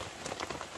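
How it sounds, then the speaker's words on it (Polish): Heavy rain pours onto a tarp tipi shelter in a forest, a dense, steady drumming patter with no voices. "ale był taki intensywny deszcz, już się delikatnie uspokaja"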